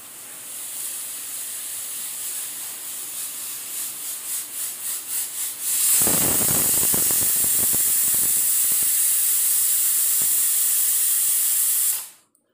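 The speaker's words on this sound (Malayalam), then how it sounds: "വിസിൽ വന്നിട്ടുണ്ട് നമുക്ക് സ്റ്റവ് ഓഫ് ചെയ്യാം" A stovetop pressure cooker making egg curry gives a series of rising whistle pulses, then a loud, sustained steam hiss that keeps going before it cuts off abruptly at the end. No one talks.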